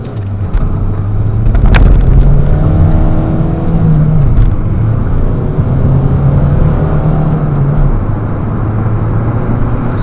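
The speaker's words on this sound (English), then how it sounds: "Now we're going to do a 0 to 60 test now, and the roads are wet." A 2011 Ford Mondeo Titanium X 2.0 TDCi diesel, front-wheel drive, accelerates hard from standstill on a wet road, its engine note rising steadily and loud throughout with the drone of tyres on damp tarmac, no voices.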